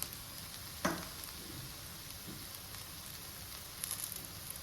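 Okra frying in a pan gives a quiet, steady sizzle with a soft clatter about a second in and faint scraping later on, no talking.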